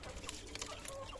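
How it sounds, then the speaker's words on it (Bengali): Desi rooster and farm hens cluck softly in a small farmyard coop, with a few quiet, brief calls close by. "এই হচ্ছে দেশি রাতা, এই হচ্ছে ফার্মি মুরগি"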